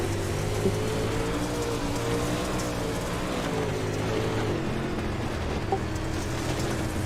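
Race car engines drone steadily and loudly throughout, with layered engine tones and a constant rushing wind noise, no talking.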